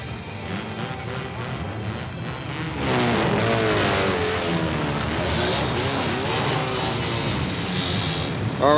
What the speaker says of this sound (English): Everybody in your cars, engines running, ready to go.